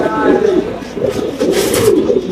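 Domestic pigeons coo in repeated low, throaty rolls, close and loud with no voices over them.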